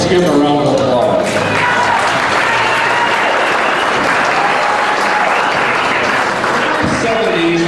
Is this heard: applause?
yes